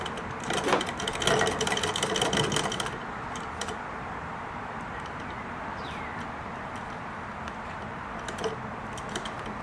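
A Singer Model 20 toy sewing machine runs without stitching, giving a steady mechanical clatter that is busier and louder for the first few seconds, then settles into a quieter continuous whir.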